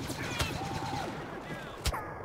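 Gunfire in Star Wars Battlefront on the Endor Walker Assault map, a dense crackle of blaster shots with two sharper bursts standing out, steady and close throughout the battle noise.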